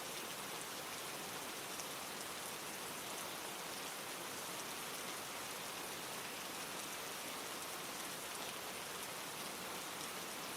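Steady rain falling, an even hiss of countless drops on surfaces, constant and soft without pauses or other sounds.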